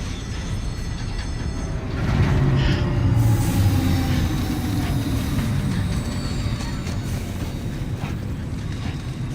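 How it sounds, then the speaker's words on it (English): Monorail train in the video game Death Stranding 2, a continuous loud rolling rumble with a swelling pass and faint high whine, steady throughout with no talk. "Oh, there's the monorail."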